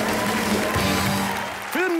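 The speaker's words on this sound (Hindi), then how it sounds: "एक बार जोरदार तालियों से स्वागत कीजिए रणवीर सिंह और अर्जुन कपूर का" Studio audience applause welcomes Ranveer Singh and Arjun Kapoor on a comedy talk show, a dense steady clapping wash that fills the short moment and tails off slightly near the end.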